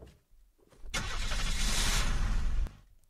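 A damaged car in the Unturned survival game starts up, its engine catching after a short crank and then running with a steady, rough roar for under two seconds before cutting off.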